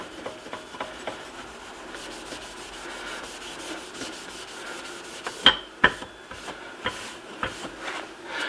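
Rag loaded with Brasso rubbed briskly over tarnished brass on a 1939 NuTone time chime, a close, rhythmic scrubbing with soft swishes and a few sharper scrapes and taps. No voices are heard.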